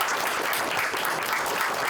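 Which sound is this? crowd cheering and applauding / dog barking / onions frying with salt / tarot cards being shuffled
crowd cheering and applauding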